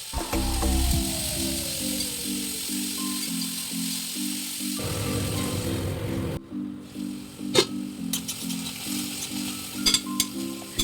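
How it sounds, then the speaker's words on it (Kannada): Onion, tomato and coriander fry in hot oil, a close, continuous sizzle broken by scraping stirs. A steady pulsing hum runs underneath, and there are a few clatters near the end. "ಸ್ವಲ್ಪ ಎಣ್ಣೆಯನ್ನು ಹಾಕಿ ಈರುಳ್ಳಿಯನ್ನು ಹಾಕಿ ಫ್ರೈ ಮಾಡ್ಕೋತೀನಿ"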